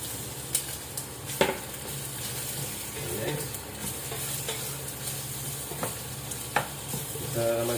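Potatoes go into a pan of frying onions, with a steady sizzle and repeated scraping stirs and utensil clicks against the pan, no voices.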